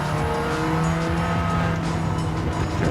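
A road car's engine revs in the PS5 racing game Gran Turismo 7, a steady, loud mechanical drone with sustained tonal harmonics and a hint of tire squeal, running alone without talk.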